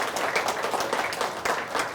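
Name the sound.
audience applause for the interview guest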